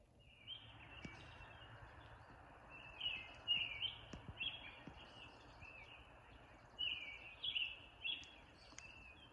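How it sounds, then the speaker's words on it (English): Several birds sing at dawn with American robins, a chipping sparrow and hermit thrushes among them, repeated bright phrases coming from moderate distance in bursts over a steady hush of background chorus. "the dawn chorus is kicking in."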